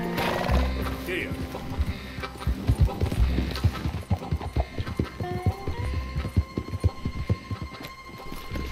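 Horse in Red Dead Redemption 2 approaches with a run of steady hoof clip-clops, a snort or whinny early on, under game music and a low hum, with someone talking.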